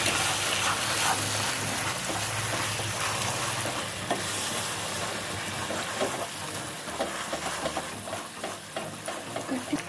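Sugar with a little water stirred in a pan as it melts for bread halwa, a continuous close sizzling hiss with spoon scraping and bubbling throughout, no talking.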